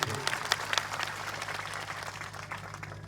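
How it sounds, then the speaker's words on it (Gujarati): An audience at a political gathering bursts into applause, a dense wash of clapping that starts strong and slowly tapers as it carries on. "બધા માટે એકવાર જોરદાર આપણે તાળીઓ પાડી લઈશું"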